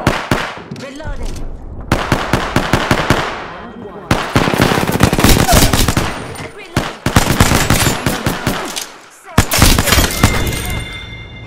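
Video game gunfire rattles out in rapid automatic bursts, loud and close, broken by brief pauses between volleys, with a voice speaking faintly underneath.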